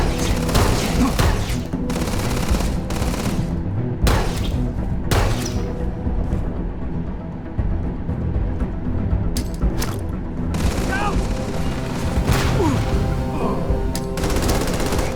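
Gunfire in the video game Starfield: loud, dense bursts of automatic fire and heavy booms hammer almost without pause, with brief quieter gaps between volleys.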